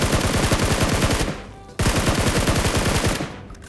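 Loud automatic gunfire from a video game comes in two long, rapid bursts of closely spaced shots, split by a brief pause.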